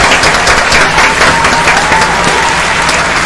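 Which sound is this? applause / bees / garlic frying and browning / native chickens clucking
applause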